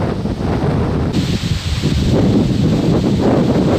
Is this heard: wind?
yes